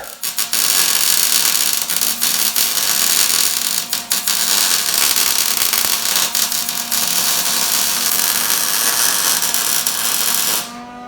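Loud, continuous high-pitched whine of a power drill boring holes for plug welds in metal parts, close up, with brief dips in speed before it winds down near the end; no talking.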